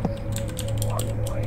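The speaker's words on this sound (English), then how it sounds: "I'm clicking a lot of buttons." Quick clicks on a computer keyboard and mouse buttons while playing a scary game, several light taps in close succession over a steady background hum.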